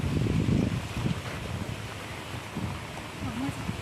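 Strong wind buffets the microphone in gusty, rumbling bursts, with a faint voice briefly audible beneath the roar.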